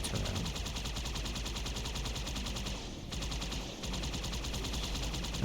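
Rapid, continuous gunfire from a turret and Ghost vehicles in a Halo game battle, loud and dense throughout with only a brief dip near the middle.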